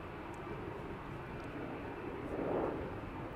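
Two KLM Boeing 737 jets, an 800 and a 700, taxi toward the runway threshold at Amsterdam Schiphol Airport, giving a low steady engine rumble and whine that swells slightly near the end, heard from a distance.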